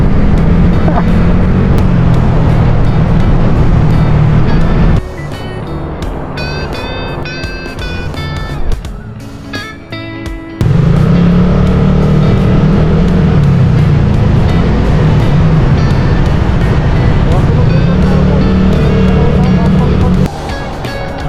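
A motorcycle engine drones loudly and continuously while riding, with wind rush, dropping out briefly midway before the engine roar returns.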